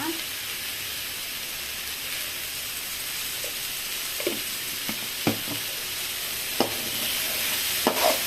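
Carrot and beans masala poriyal sizzles steadily in a hot pan while being stirred, a constant frying hiss broken by occasional scrapes and knocks of the spoon, heard close with no talk over it.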